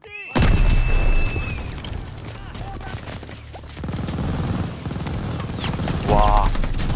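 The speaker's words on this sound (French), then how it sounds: "dégoupille une grenade et réveille-moi ces boches" Wartime combat in Call of Duty Vanguard: a sharp grenade blast opens, then bursts of rifle and machine-gun fire crackle with booming impacts, loud and close, over several seconds.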